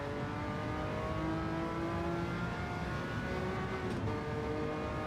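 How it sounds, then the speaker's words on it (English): Ferrari engine revving in the Gran Turismo 7 racing game, a continuous droning whine with steady harmonic tones shifting pitch slightly, heard alone without talk at moderate level. "Oh yeah, the Ferrari sounds absolutely mega"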